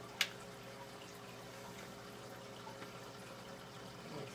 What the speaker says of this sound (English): This red light on the bottom that's on right now is on because we are pumping water right now.